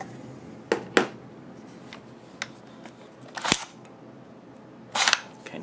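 Removing the magazine and clearing a .50 Beowulf rifle produces a few sharp, close metallic clicks and clacks, scattered with pauses, in a quiet room.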